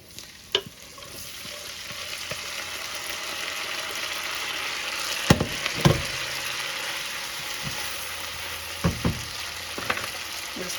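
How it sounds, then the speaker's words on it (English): Pasta tossed in a hot pan with garlic and bacon sauce, a steady close sizzle with occasional scraping knocks and clatters as it is stirred and coated. "We're just going to get that all tossed in and coated with that garlic and the bacon"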